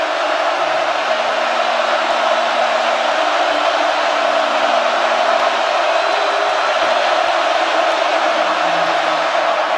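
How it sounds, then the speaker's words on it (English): Football stadium crowd roaring on a 3rd down at Oregon, a dense, loud, continuous wall of cheering that holds steady the whole time. "Crowd comes alive on 3rd down and 3."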